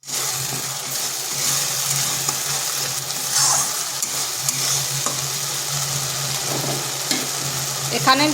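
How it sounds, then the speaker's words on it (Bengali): Ground spice paste sautéed in oil in a pan, a continuous close sizzle with intermittent scraping and stirring clicks from a spoon. "ও মশলাটা একটু কষে নিচ্ছি"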